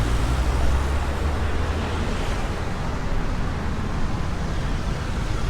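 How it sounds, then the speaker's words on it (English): Steady roar of city street traffic on a holiday beside a mall in Medellin, a continuous low rumble of passing vehicles mixed with wind buffeting, close and loud throughout with no talk. "They're trying to pay attention to this traffic so we can cross the street."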